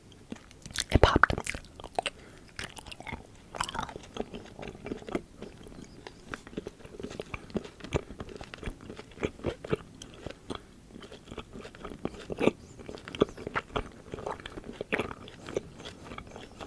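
Refrigerated wax candy being chewed close to the mic, with a loud crunchy bite at first, then a long run of soft, sticky, gum-like mastication with irregular smacks and quiet clicks.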